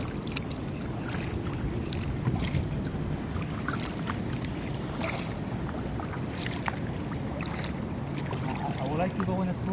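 Kayak paddling on Laguna del Condado in Puerto Rico on a calm morning, with steady water lapping and light splashes from paddle strokes, a soft wind wash underneath and scattered faint clicks throughout.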